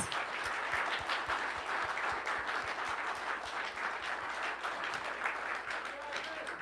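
Sustained audience applause for graduates at a celebration, with distinct sharp claps close by over a wash of clapping from the crowd; cheering voices are mixed in underneath.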